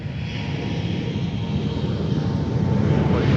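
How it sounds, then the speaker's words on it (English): A Delta Connection jet operated by SkyWest, bound for Duluth, rolls for takeoff on runway 4 at MSP, heard as a steady, distant jet roar that builds slightly and holds. "the next one is already on the roll, and that's headed to Duluth, Delta connection operated by SkyWest, flight 3686"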